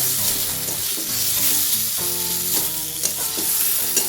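Fish curry masala sautéing in a pan, a bright continuous sizzle close up, with tonal ringing from the cookware and a few sharp stirring knocks.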